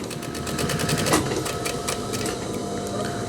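A sewing machine stitches a denim jacket, giving a fast, rhythmic mechanical clatter close by, with a few sharper knocks as the needle works through thick fabric.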